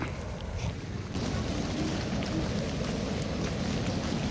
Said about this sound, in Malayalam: ഇത് വെള്ളച്ചാട്ടം